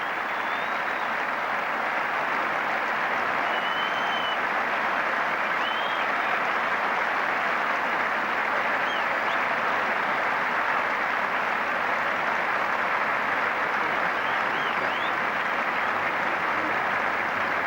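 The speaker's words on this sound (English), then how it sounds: "Leader of his side, the Indian players applauding." Sustained applause from the crowd and players at Lord's cricket ground during a 1990 England v India Test match, a dense, even roar of clapping from a large crowd lasting the whole stretch without letup.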